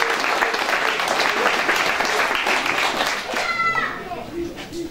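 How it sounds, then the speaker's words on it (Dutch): A crowd applauds steadily, a dense wash of clapping with some voices and children mixed in, tapering slightly near the end. "Applaus voor Huub."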